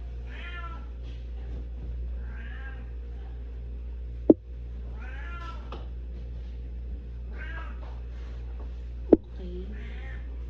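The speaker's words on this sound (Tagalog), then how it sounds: "Naririnig niyo ba yung pusa ko? Nandun kasi siya sa sa cage niya." A cat in a cage meows repeatedly, four drawn-out cries spaced a couple of seconds apart over a steady low hum, with two sharp clicks in between.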